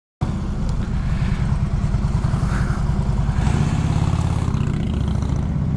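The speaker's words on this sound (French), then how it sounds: "Ah, ça c'était de la moto." A motorcycle engine rumbles loudly nearby, a steady low drone as it passes close, with no voices.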